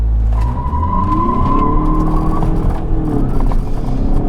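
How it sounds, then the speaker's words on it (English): A Skoda Superb in sport mode revs hard, its engine note climbing and holding loud and close, with tires spinning and faintly squealing beneath the steady roar, and no one talking. "Revving the motor."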